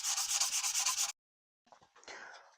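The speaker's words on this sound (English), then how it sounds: "I will leave the palm sander off to the side and I will hand sand it" Hand sanding Bondo body filler on a car: about a second of fast, rhythmic scratchy strokes, then a brief silence and softer, irregular rubbing, close and with no voices.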